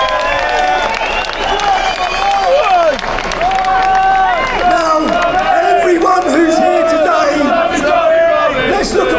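A large march rally crowd shouts and cheers continuously, many voices overlapping in a loud, dense roar with rising whoops and bursts of yelling throughout.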